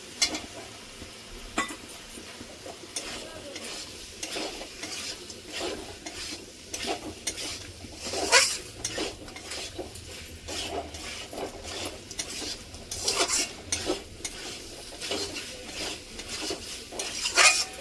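Shrimp are stirred into frying potato and eggplant, a steady sizzle broken by repeated scrapes and clinks of a metal spatula against the pan, close and fairly loud, with no talking.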